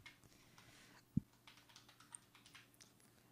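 A PIN typed on a computer keyboard during Windows 10 sign-in, heard as soft, faint, scattered key clicks with one sharper tap, with no talking.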